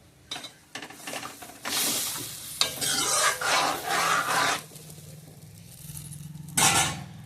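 Cumin paste sizzles and is stirred in a hot pan for a Bengali bhola fish jhal curry, giving several loud, crackling bursts of frying and scraping with brief pauses in between and no talk.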